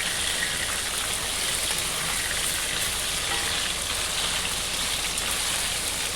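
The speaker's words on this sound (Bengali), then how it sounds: "তো এই দেখো মাছগুলো সব ভাজতে দিয়ে দিয়েছি" Fish fries in hot oil in a pan for a home-style jhol, giving a steady, dense sizzle that stays even and close throughout, with no talking.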